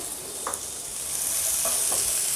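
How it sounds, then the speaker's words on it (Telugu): Chopped ginger and garlic sizzle steadily in hot oil for egg noodles, a continuous bright hiss broken by a few soft stirring scrapes, fairly close and with no talking. "బాగా ఫ్రై చేసుకోవాలి"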